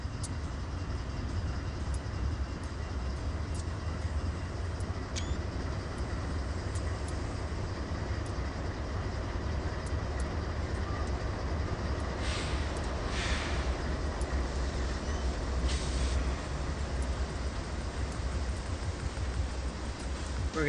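Train rolling along in Train Simulator Classic, a steady continuous low rumble and rail drone throughout with faint clicks, and no talk.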